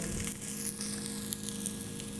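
Pedve fish coated in rava frying in a generous amount of oil in a pan, a steady close sizzle with small crackles throughout and no talking.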